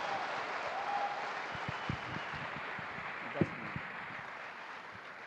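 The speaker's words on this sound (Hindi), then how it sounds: "तो एक बार जोरदार ताली बजा दीजिए।" Audience applause at a business seminar hall, dense steady clapping from many hands heard from a distance, fairly quiet and continuous throughout with a few louder individual claps.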